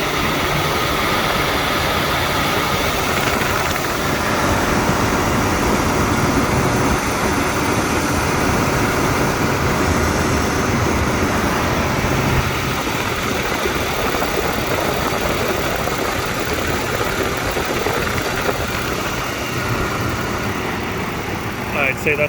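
A GM 3.7L engine idles steadily after a serpentine belt, tensioner and idler pulley replacement, a loud continuous close-up drone that stays even throughout, with no talking heard.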